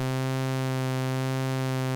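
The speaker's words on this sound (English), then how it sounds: "This very subtle modulation of the pitch of oscillator 1." A steady, buzzy Arturia OB-Xa V synthesizer drone with rich harmonics, its oscillator pitch wavering very gently and slowly throughout from a 1 Hz LFO.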